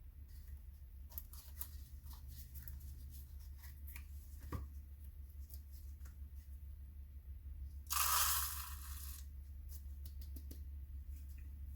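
A knife or cutter slicing through the bottom of a Kong Killer firework canister shell: small scattered scraping and crunching contacts over a steady low hum, then a brief louder rasping cut near the end, close and fairly quiet.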